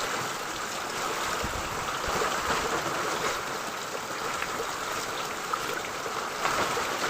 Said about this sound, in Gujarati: ફૂલે ફૂલ વર્ષા ચાલુ થઈ ગયો છે